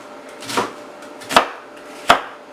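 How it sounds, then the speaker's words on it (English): Three sharp knife strokes chop onions on a cutting board in a home kitchen, spaced roughly evenly apart, close and distinct with quiet gaps between them. "So, I'm going to chop my onions."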